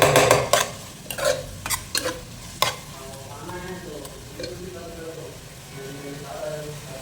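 Onions browning in a pan for an avarakai (broad bean) chicken dish are stirred with a few sharp spoon scrapes and clanks over a low sizzle, while a voice talks in between.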